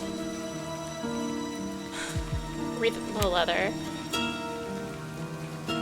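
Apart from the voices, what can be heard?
rain falling in video game Livber: Smoke and Mirrors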